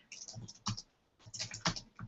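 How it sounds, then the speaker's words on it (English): Quick bursts of key presses on a computer keyboard while entering text into an email newsletter form, two clustered flurries of close, light clicks separated by a short pause. "oops, bad typing there"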